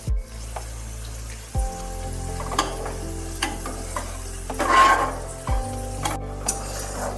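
Carrots frying in a pan while khichuri cooks, a low steady sizzle with scraping stirs, utensil clinks and a few sharp knocks against the pan.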